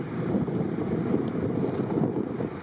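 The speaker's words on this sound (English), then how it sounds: "It's quite windy all of a sudden. Wind's picking up. Very windy." Strong wind buffets the microphone during a mountain backpacking hike in Alberta, a loud, steady roaring rush of gusts with no voices.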